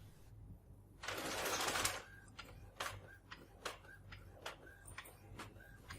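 A document printer running, with a loud rushing burst of feed noise followed by a steady series of rhythmic ticking clicks as the page prints.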